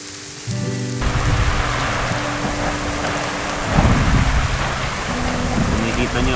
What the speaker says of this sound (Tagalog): Tapos bigla namang bubuhos ang ulan.